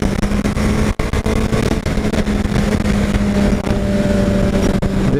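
Honda CBR 1000 RR Fireblade superbike riding hard around the Interlagos circuit, its engine a loud, steady roar with wind rush, briefly dipping once near the start before surging on continuously.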